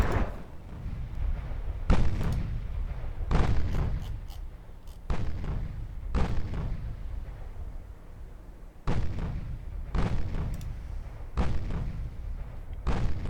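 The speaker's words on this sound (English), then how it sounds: "fire on the lead ship" Naval guns in the Ultimate Admiral Dreadnoughts game firing on the lead ship: about eight heavy, booming shots, each a sharp crack that rolls away, spaced unevenly and close, with no voices.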